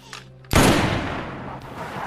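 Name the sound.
gunshots in a zombie film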